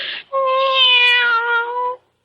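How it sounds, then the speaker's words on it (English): A cat gives one long, clear, drawn-out meow up close, heard alone in a quiet room. "Why, you're purring, aren't you?"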